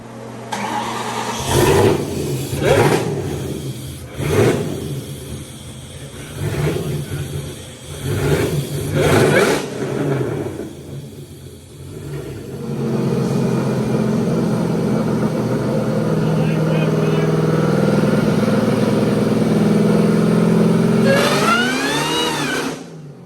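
Race car engine revving hard on a partial hit while a tire spins, with sharp repeated blips and revs, then a sustained loud roar building toward the end, close by.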